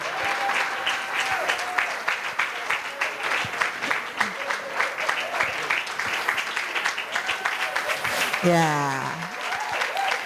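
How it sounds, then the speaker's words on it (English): Audience at a women's finance event applauds steadily for the whole stretch, loud and sustained, with scattered voices and a brief spoken reply mixed into the clapping. "you can clap loudly"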